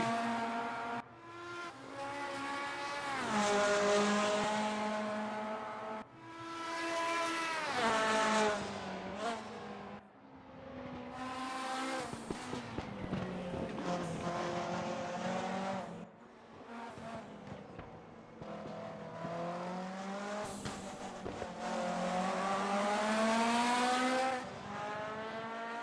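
Race car engines in a sim racing game, Group 5 cars, loud and continuous with rising and falling revs through gear changes, several cars overlapping, no talk.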